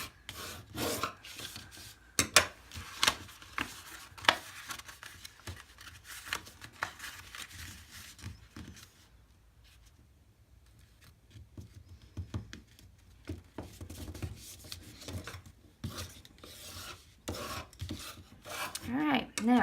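Craft paper for a handmade gift box being folded along score lines at the corners, producing close, irregular crinkles, rubs and sharp creasing snaps with a quieter stretch midway.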